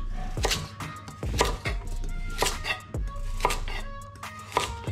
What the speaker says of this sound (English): I'm going to go half a carrot, first thickly slice, and then afterwards I'm just going to thinly slice.